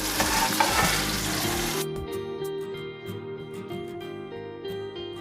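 Chili powder, mint and coriander sautéing in a hot pan give a loud, steady sizzle for about two seconds, which then drops away, leaving a quieter tonal background.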